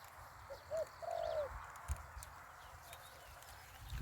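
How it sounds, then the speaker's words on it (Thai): A large dove coos in the distance, heard as a few faint, soft tonal calls in a quiet outdoor morning setting beside a neem tree. "มีนกเขาใหญ่ร้องอยู่ไกลๆนะครับ"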